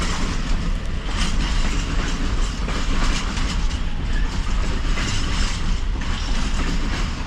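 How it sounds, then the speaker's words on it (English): A freight container train rolls past on the rails nearby, a steady loud rumble with rhythmic clatter of wagons over the track joints, continuous and unbroken throughout. "when the container train passed"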